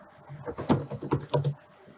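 Rapid keystrokes on a computer keyboard while editing text on a website builder, a short burst of close, crisp clicks with uneven rhythm over about two seconds.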